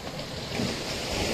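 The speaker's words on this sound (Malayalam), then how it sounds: "കടൽ തകർക്കാണ്." Rough sea surf crashes on a beach at night during night fishing, a continuous low roar of churning water mixed with wind buffeting the microphone, with no voices.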